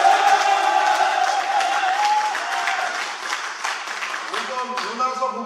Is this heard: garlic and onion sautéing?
no